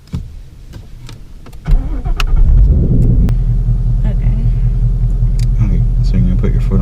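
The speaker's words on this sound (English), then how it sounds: "So put the clutch in, bring it into neutral, and then start it." A manual-transmission car is started in neutral with the clutch in: some clicks, a sudden starter crank and catch, then a steady, close idle rumble that continues to the end.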